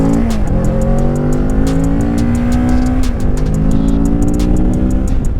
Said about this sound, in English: Stock exhaust ain't making no noise.